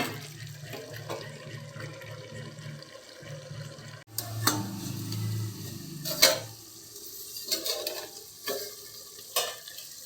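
Bengali-style mutton with potatoes being stirred and fried in a covered pan, a soft steady sizzle broken by louder scraping stirs and clatters partway through.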